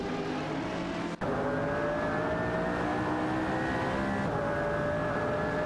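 In a video game race, a Ferrari LaFerrari and a McLaren supercar roar along at high revs. A steady engine drone climbs slowly in pitch, with one brief break like a gear shift, and no talking.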